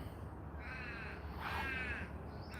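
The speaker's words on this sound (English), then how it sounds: "Good old crows." Crows cawing on a quiet evening in Melbourne, two drawn-out harsh caws at moderate distance, fairly faint and alone with no talk.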